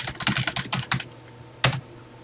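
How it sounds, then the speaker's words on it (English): Keys clatter on a Texas Instruments TI-99 computer keyboard as a short BASIC program is typed in: a quick burst of close, crisp keystrokes, a pause, then one louder key press. "So let's get busy typing this one in."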